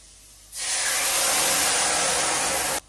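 Spice mix hits frying potatoes in a hot pan, setting off a sudden loud, steady sizzle that holds for about two seconds and then stops abruptly.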